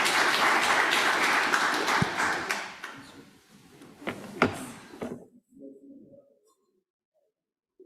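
Broadband applause from a lecture audience fills the first few seconds, then thins out and fades, leaving scattered clicks and soft handling noises before near silence.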